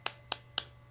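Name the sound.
rhythmic Islamic hand clapping, tepuk Al-Fatihah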